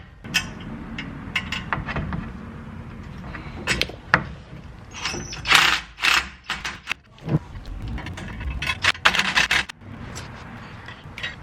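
Nuts and bolts being tightened down on a 2017 Toyota Tacoma RCI skid plate, heard as irregular metallic clicks, ratcheting bursts and clanks at close range, with no talk.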